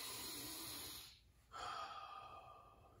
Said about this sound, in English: So just make sure you're breathing